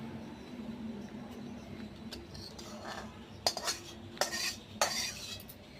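Thick okra curry with mustard and poppy seed is scraped from a pan into a dish: soft scraping with a few sharp metallic clinks of a spoon against cookware, close by in a quiet kitchen.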